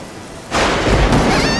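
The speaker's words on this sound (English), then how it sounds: "Lightning strike! Rain, darkness," A sudden loud crash of thunder breaks in with heavy rain during an anime storm scene, a dense roaring wash that swells and holds after a quieter start.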